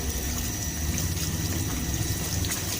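Laundry is rinsed by hand in water, a loud continuous sloshing and pouring wash of liquid close by, with no voices.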